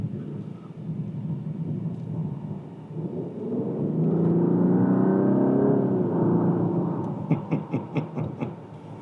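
A 2015 Rolls Royce Wraith accelerates hard from inside the car, its engine rising into a deep swelling roar and smooth whir before easing off with some clicking ticks at the end.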